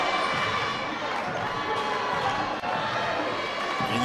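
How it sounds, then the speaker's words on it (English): A crowd at a boys' high school city playoff final in Brooklyn, Eagle Academy against Brooklyn Collegiate, roars loudly and steadily in a gym, with sneaker squeaks and a ball bouncing beneath the sustained cheering. "you heard the crowd go crazy as soon as it left his hands"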